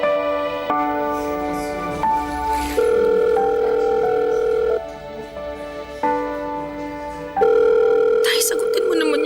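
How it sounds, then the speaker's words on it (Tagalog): A phone ringing out on an unanswered call, repeated electronic ring tones in steady bursts with short gaps, loud and close, with a voice briefly audible underneath. "Sagutin mo naman yung tawag ko."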